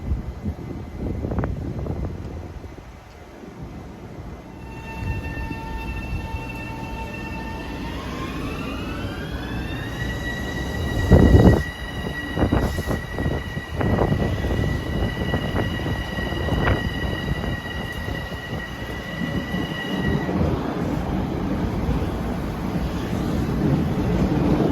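A Metro North holiday train passes, its horn sounding a steady multi-tone chord that bends upward in pitch and holds for several seconds over continuous rail rumble and wind noise, with a brief loud thump midway.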